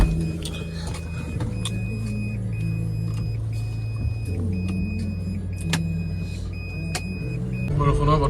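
Steady low rumble of a car cabin on a long drive in rainy weather, with a repeating electronic chime and engine hum throughout, fairly loud and close.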